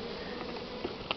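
Steady insect buzzing of many honeybees at a hive, a continuous close drone with a couple of brief louder passes near the end.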